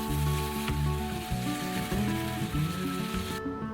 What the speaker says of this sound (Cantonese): 將其餘嘅乾材料放入去一齊翻炒